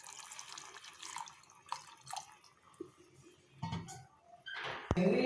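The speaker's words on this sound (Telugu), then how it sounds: "ఇప్పుడు వాటర్ పోసుకుందాం." Water is poured into a dry fish curry with tamarind pulp. Faint clinks and drips come first, then a brief splashing pour near the end, all quiet and close.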